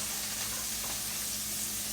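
Frozen mushrooms sautéing in a pan give a steady, close frying sizzle with soft hiss throughout, no voices.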